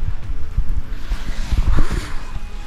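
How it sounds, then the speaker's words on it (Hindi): Wind gusts buffet the microphone on a misty, rainy hilltop at Mukteshwar Dham during the monsoon, a steady rushing roar with low, thumping bursts throughout. "बारिश आ रही है, हवा चल रही है"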